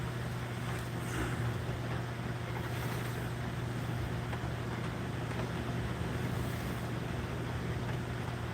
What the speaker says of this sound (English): There's the wind again. It's just not easing up.